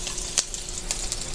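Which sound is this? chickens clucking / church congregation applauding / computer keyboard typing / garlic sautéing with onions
garlic sautéing with onions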